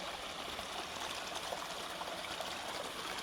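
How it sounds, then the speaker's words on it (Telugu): A small waterfall with low flow after scant rains near Mazidpur village by Ramoji Film City, Hyderabad, giving a steady, soft, close rush of falling water with no voices. "వర్షాలు లేవు, వాటర్ఫాల్ తక్కువ ఉండడం వల్ల మనకి చిన్న వాటర్ఫాల్ వస్తుంది"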